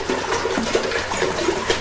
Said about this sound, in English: So we are just going to put water in a nice big pot